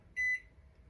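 A microwave oven cooking scrambled eggs in a silicone bag gives a single short, clear electronic beep, fairly loud over a faint low hum, then quiet.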